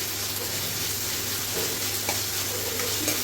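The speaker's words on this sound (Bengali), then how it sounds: "তো এই দেখো পেঁয়াজটা ভালো করে ভাজিয়ে নিচ্ছি" Onions frying with cumin and ginger paste in a pan, a continuous close sizzle with occasional faint stirring scrapes and no talk.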